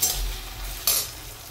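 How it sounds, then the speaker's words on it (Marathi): Crushed garlic and ginger paste hits a pan of golden fried onions for a vegetable biryani, giving a brief hissing sizzle with stirring and a sudden louder burst partway through. "आता आपण लसूण अद्रक कुटलेलं, ते अर्धी वाटी कुटलंय लसूण अद्रक, ते टाकून घेऊ"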